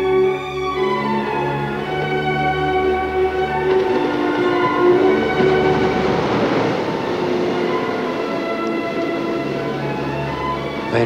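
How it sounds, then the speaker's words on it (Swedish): A train on the Trans-Siberian Railway sounds its horn in a loud, sustained, chord-like blast over rumbling rolling wheels, close and dominating throughout. "Det är en transsibirisk järnväg."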